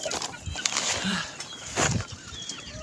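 Chickens cluck faintly at an outdoor chicken farm by a pond, a few soft clucks and brief wing flaps heard at a distance amid background ambience.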